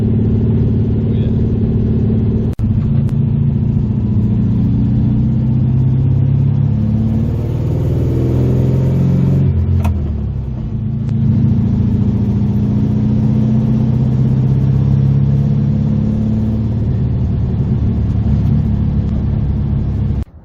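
A 1966 VW Beetle engine running while driving, a close, steady air-cooled drone with rising and falling tones as it cruises and shifts, one sharp click partway through, and no talk.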